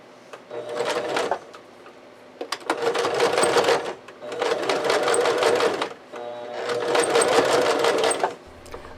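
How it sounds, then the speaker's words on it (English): A sewing machine stitching binding down along the edge of a fabric potholder, running in three steady bursts of rapid mechanical whirring with brief pauses between, close and clear. "right along the edge of the binding, then you're going to just sew that down."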